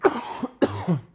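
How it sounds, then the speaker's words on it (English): Two loud, close coughs from a person on a podcast come about half a second apart, each a rough burst trailing off into a throaty rasp. "That was a great cough."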